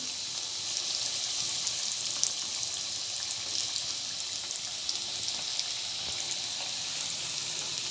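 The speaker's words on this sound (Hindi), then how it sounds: "हम इसे मीडियम आंच पर तल कर लेंगे।" Konkani cucumber ghari fries on medium heat, probably on a tawa, with a continuous moderate sizzle and faint crackles that hold steady throughout with no one speaking.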